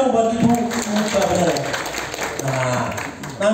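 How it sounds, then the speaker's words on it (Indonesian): A seminar audience claps for a woman from Medan joining as a new distributor, a short burst of scattered applause mixed with voices talking over it. "tepuk tangan dong buat Ibu"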